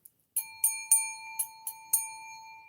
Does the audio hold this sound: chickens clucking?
no